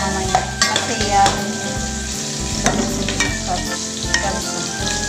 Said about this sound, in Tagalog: Sibuyas at saka yan guys, magiging fried onion siya mamaya.